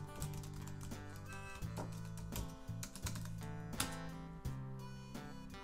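Rapid, irregular clatter of keys on a computer keyboard as an email address and password are entered, close and clear, with brief pauses between bursts and no voices.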